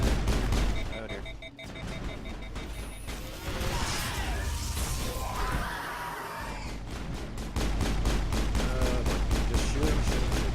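Gunfire and impacts in the Mass Effect game, bursts of shooting and crashes with a rapid stuttering stretch toward the end, mixed with game ambience and some talk.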